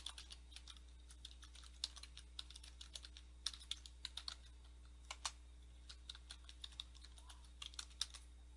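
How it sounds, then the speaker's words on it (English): Keys clacking steadily on a computer keyboard while a website address is typed in, with quick irregular bursts of close, crisp taps over a faint low hum and no talking. "then we will type in the site address"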